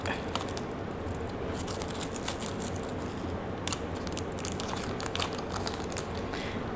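Packaging is peeled and unwrapped from a pre-made fiber optic cable, giving close, crisp crinkling and snipping sounds in irregular bursts over a steady low background.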